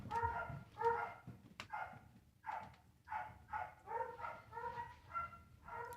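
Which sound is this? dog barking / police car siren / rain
dog barking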